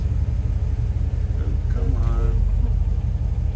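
A Jeep TJ with a Hemi engine and eight-speed swap idles in park, a loud steady low rumble, with a person talking briefly over it partway through.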